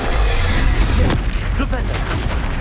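An Accio summoning spell is cast during combat in the PC game Hogwarts Legacy, a loud, dense rumble of magical bursts and booms with brief tonal, voice-like flourishes layered over constant low battle noise.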